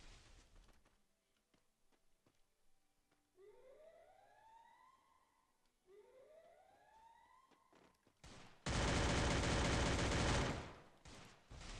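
Scattered sharp shots crack in the Free Fire game soundscape, with rising siren-like whoops, then a loud dense burst of rapid fire near the end.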